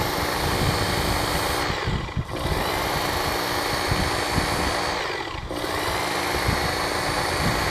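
A Ken Onion Edition powered belt knife sharpener runs with a loud, steady whir as a blade is drawn through in slow passes, the tone dipping briefly twice as the edge contacts the belt.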